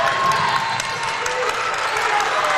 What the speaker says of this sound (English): Southeast crowd starting to put their hands together